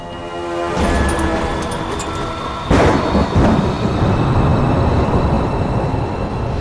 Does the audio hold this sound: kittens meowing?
no